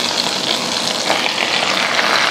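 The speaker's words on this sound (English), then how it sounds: "And let's fry it in the fry pan." Hokkaido butter sizzles in a frying pan, a steady, close, hissing crackle with no breaks and no voices over it.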